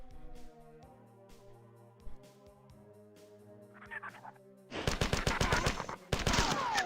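Rapid gunfire in the video game Classic Marathon, with bursts of dense automatic shots taking over loudly near the end after a stretch of quieter, tonal game audio.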